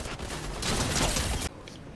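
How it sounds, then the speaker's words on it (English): Video game gunfire erupts as a dense, rapid fusillade of loud shots lasting about a second and a half before cutting off abruptly. "I'm getting shot from everywhere right now."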